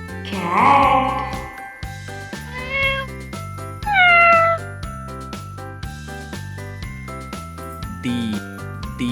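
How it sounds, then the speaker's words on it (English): A cat meows several times, with a long first meow and then shorter ones, over a jingly children's tune that keeps playing beneath. "C for cat."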